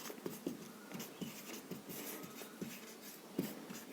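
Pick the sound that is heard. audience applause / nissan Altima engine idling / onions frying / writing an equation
writing an equation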